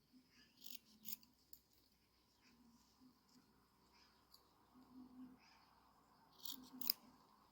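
Scissors snipping ribbon for a handmade hair accessory: soft, quiet cuts come in small bursts with pauses between them, close by in a calm room.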